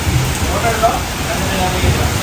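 Heavy rain pours down in a steady, dense hiss while people talk over it.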